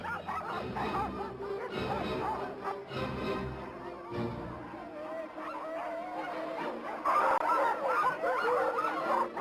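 Many sled dogs bark and yelp excitedly together in a continuous, busy chorus, with a voice talking over the din.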